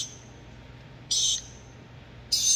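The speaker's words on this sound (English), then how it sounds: "Silly bird." A pet bird gives two short, shrill, high-pitched calls a little over a second apart, close and loud over a quiet room hum, with a faint high trailing chirp in between.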